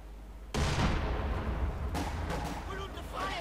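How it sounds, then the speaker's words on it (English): Artillery fire in a Company of Heroes 2 match: a sudden loud boom opens a dense, rumbling barrage that carries on, with another blast partway through and some faint voice-like sounds near the end. "nice artillery"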